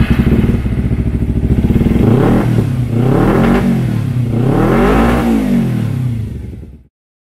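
A 2011 Kawasaki EX250 Ninja 250 sport bike engine idles loud and close, then revs up and down in three rising-and-falling sweeps before cutting off abruptly near the end, with no talking.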